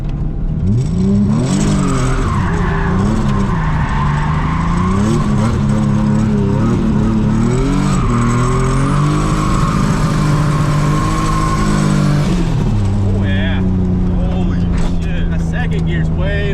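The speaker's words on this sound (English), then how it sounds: "Grab out the little donut here, test it out." A Nissan S13 street drift car with a swapped R32 differential spins a donut: its engine revs hard and loud in long wavering surges, with tyre noise and a rising, falling roar close by throughout.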